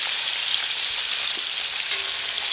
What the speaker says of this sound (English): You're just browning it